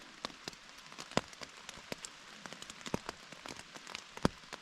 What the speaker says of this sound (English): Right after dark, it started to rain.